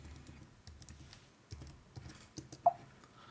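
Rapid key taps on a Mac keyboard as a password is entered, a close, light clatter of individual presses with short pauses and one sharper click near the end.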